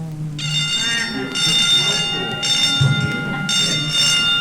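School bells at a high school in 1965 ring in three long electric rings with short pauses between, loud and buzzing over a low steady hum, while a voice talks faintly underneath.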